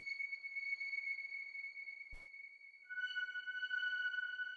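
A high-end ambient layer with reverb and delay over an emotional piano loop, sustained glassy tones held steady and faint, a short click in the middle, then a brighter added tone joining the drone.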